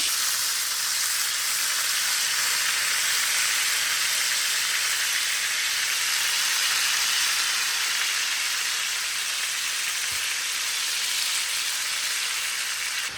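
Chicken changezi pieces fry steadily in a pan, a continuous close sizzle with a faint bubbling crackle that holds evenly throughout, with no voices.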